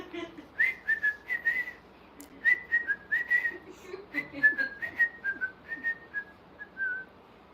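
A person whistles a series of short rising and falling notes in separate phrases, clear and fairly close, outdoors at a family gathering, with no talking.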